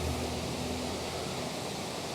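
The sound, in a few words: waterfall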